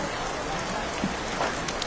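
Rain falls steadily, a dense, close hiss of drops on surfaces with no pauses, fairly loud throughout.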